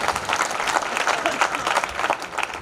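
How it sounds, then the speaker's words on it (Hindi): An audience at a stage performance event breaks into dense, sustained applause, with many hands clapping together and some crowd noise mixed in throughout. "जोरदार ताली हो जाए एक बार।"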